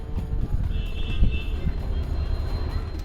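A train rumbles steadily at a platform of Kankinara railway station, low and continuous, with a thin metallic squeal rising briefly over the noise.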